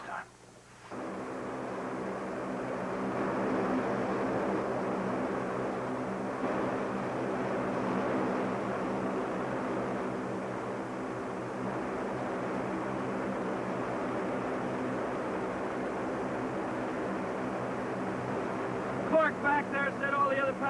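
Airplane cabin during a delay before takeoff, with a constant loud engine rumble and air roar holding steady throughout and voices faintly present.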